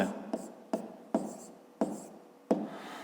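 Pen writing math on paper, a handful of separate scratchy strokes spaced about half a second apart, close and fairly clear with no talking.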